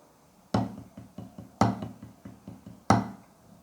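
Drumsticks play rudiments, a five-stroke roll and a paradiddle-diddle. Three loud accented strokes land about a second apart, with quicker, softer taps between them in a steady, close, dry pattern.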